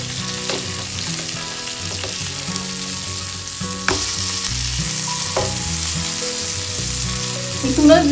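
Pomfret fish fries in oil on a flat tawa with a loud, steady sizzle close up, broken by a few clatters as the fish is turned, over faint background music.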